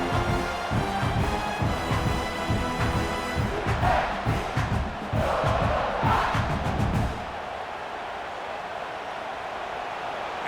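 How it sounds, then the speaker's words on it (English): A stadium crowd roars in the video game EA College Football 26 for Clemson at South Carolina, a loud sustained swell of cheering and chanting that cuts off abruptly, leaving a quieter ambient hum. "this crowd coming to life here, trying to help the defense get a stop"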